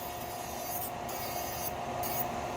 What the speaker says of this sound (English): I do hold the drill like this as well.